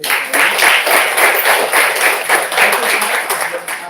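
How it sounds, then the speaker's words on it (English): A crowd applauding steadily, dense clapping filling the space for a few seconds at fairly close range. "let's give a big round of applause"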